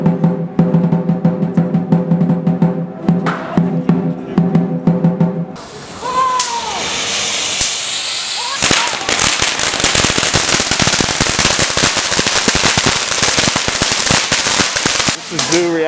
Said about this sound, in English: So we had all the firecrackers.